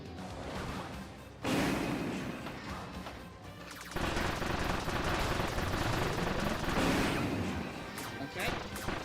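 Rapid-fire laser blasts from Kirby's Return to Dream Land Deluxe form a dense, loud, continuous barrage of crashing bursts that starts abruptly and keeps going over busy game sound.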